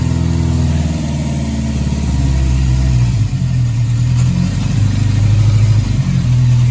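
A Kawasaki ZRX1100 motorcycle engine, just started after a partially detached carburetor fuel line was fixed, runs loud and close with a steady low rumble and repeated revs rising and falling, heard alone.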